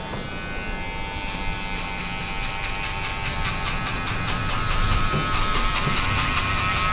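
Electric hair clippers with a 1.5 guard buzz steadily while cutting a fade, a close continuous drone with a faint pulsing whine that grows slightly louder toward the end, no voices.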